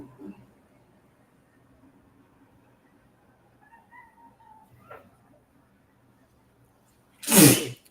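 A single loud, sharp sneeze bursts out near the end after a stretch of quiet, faint background murmur.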